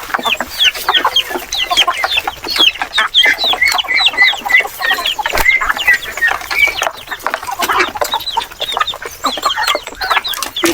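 A mother hen with three chicks clucks repeatedly up close, a busy run of short chirpy calls, with other fowl chattering faintly behind.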